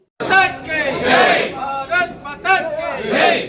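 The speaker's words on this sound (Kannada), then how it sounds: "ಅಶೋಕ್ ಹಾಗೂ ಸುಬ್ಬರೆಡ್ಡಿ ಸ್ನೇಹಿತರು ಹಾಗೂ ಬೆಂಬಲಿಗರು ಜೈಕಾರ ಕೂಗಿ ಸಿಹಿ ಹಂಚಿ ಸಂಭ್ರಮಾಚರಣೆಯನ್ನು ಮಾಡಿದರು" A crowd of supporters in Srinivaspur, Kolar, chants slogans and cheers loudly in celebration after a bank president and vice-president election, rhythmic shouted bursts rising and falling close by.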